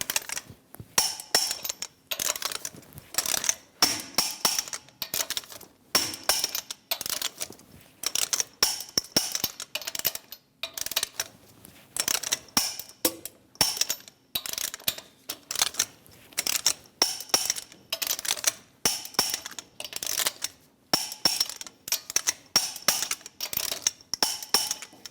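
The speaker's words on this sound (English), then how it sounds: "we're going to torque the lug nuts to 140 foot-pounds in a star pattern" Rapid clicking ratchet and metallic ticks from a 22mm socket torque wrench tightening lug nuts on a Chevrolet Express 2500 wheel, coming in short irregular bursts close by.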